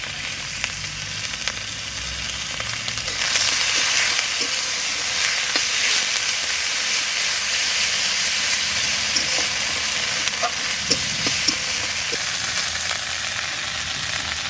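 Cumin, ginger and garlic pastes fry together in hot oil for a soya chunk kofta curry, a loud, continuous sizzle with scattered stirring clicks and a little faint music at the start.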